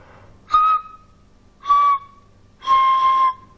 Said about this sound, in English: And it turns it into a sort of a Swanee whistle.